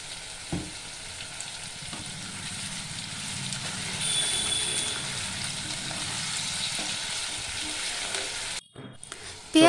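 Sliced onions sizzle steadily in hot oil after salt is added, a base for a spicy chicken kosha. The close, continuous crackle runs almost the whole time, with a brief clatter near the end.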